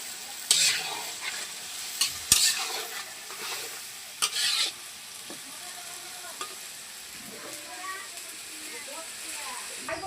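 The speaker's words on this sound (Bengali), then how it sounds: "বেগুন ভাজা হচ্ছে।" Eggplant pieces fry in hot oil in a pan over a village cooking fire, with a constant soft sizzle and several sharp scraping bursts as a spatula stirs them, and faint voices in the background.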